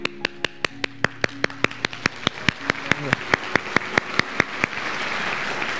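Hands clap in a steady, even rhythm, about twenty sharp claps close by, before stopping and leaving a soft background hiss.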